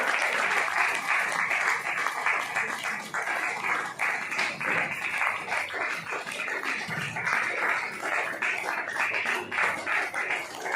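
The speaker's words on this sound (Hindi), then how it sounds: "तालियां बजाने में कृपया कंजूसी ना करिए।" An audience at a Diwali celebration claps steadily and loudly in a sustained, dense round of applause that lasts throughout, with faint voices mixed in beneath.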